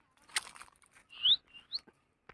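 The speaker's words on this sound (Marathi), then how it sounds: "हे बघा इथे चिमणी बसले" A sparrow perched outdoors near its nest lets out a few short, thin chirps and small rustles, close by and fairly soft, with no voices.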